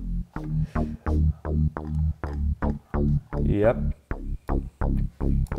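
Electro-style synth bass from the Diva software synthesizer, playing a steady run of short, punchy repeated notes with a resonant filter sweep brightening a few of them, loud and up front.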